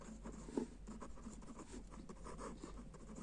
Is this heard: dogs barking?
no